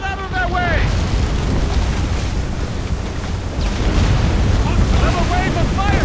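Ship cannon fire during a naval battle in Assassin's Creed Rogue, loud sustained booming and rumbling blasts with crackling debris, mixed with shouted voices and wind.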